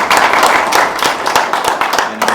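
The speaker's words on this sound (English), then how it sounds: "Big round of applause to our scribes." A community engagement meeting's room claps for the scribes: a small group applauds loudly and close by, with irregular overlapping claps and faint voices underneath.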